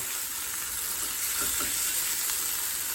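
Chorizo sausage frying in a pan gives a steady, dense sizzle with faint crackles, close and continuous without any talk.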